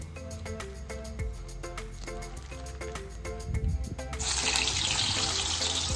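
Water trickles from a tap onto a plate and wet hands while urad dal vada batter is shaped by hand, a steady close splash that grows louder and brighter near the end.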